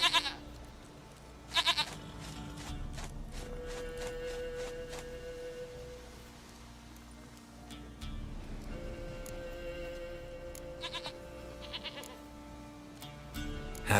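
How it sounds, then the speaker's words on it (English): Goat bleating in The Witcher 3: Wild Hunt, a few soft calls under quiet game ambience and music, fairly faint and distant. "Goat of mine, dearest, sweetest goat."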